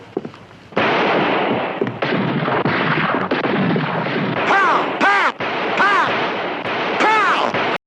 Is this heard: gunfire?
yes